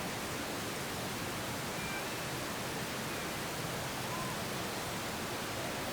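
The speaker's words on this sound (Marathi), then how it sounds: "नाशिकमध्ये गोदावरीला पुन्हा एकदा पूर आलेला आहे" The Godavari river in flood at Nashik, swollen by heavy discharge from Gangapur dam, gives a constant, even roar of rushing water that fills the whole scene without pause.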